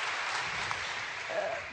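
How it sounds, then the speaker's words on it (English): Activists at a political gathering applaud in a steady, dense wash of clapping that fills the whole stretch, fairly loud and continuous, with a voice faintly mixed in. "that's when the activists applaud"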